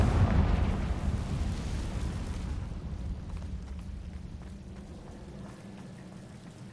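Confringo blasting spell explosion in a Harry Potter video game: a single heavy, rumbling blast that is loudest at the start and slowly fades away into a low, lingering roar.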